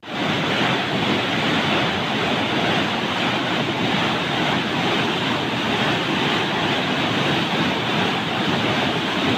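Floodwater rushes into the Godavari river during heavy rains, a loud, unbroken roaring wash of water with no voices.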